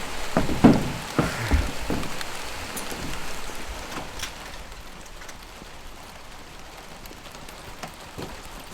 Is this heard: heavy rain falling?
yes